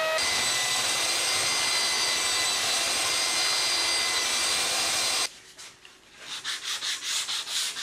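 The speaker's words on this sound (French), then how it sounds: "On prendra soin de poncer les panneaux sur les deux faces" A power sander rubs across wooden door panels in a loud, continuous whirring grind, then drops back to softer, pulsing passes.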